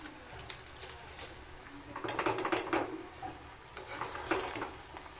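Khichuri is stirred slowly in a small, overfilled kadai, giving soft intermittent scraping and stirring sounds in irregular clusters, fairly faint, with a bird cooing in the background.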